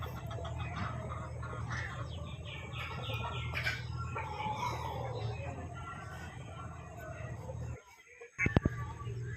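Sonali-breed native country chickens on a farm cluck and call close by in a busy, overlapping flock chorus over a low background hum, with a short pause and a sharp clatter near the end.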